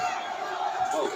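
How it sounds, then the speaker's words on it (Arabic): A dense crowd of Moroccan football fans roars together in celebration of a goal, a loud sustained wall of shouting voices with a brief swell near the end. "فرحة الجمهور المغربي بالهدف الأول"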